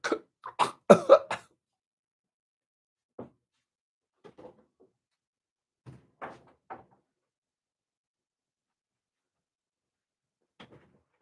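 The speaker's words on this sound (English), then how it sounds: "I think I'm going to crack my door." A room door is eased open just a crack, giving a few close knocks and handling clunks at the start, then sparse faint taps and creaks in a quiet room with no talking.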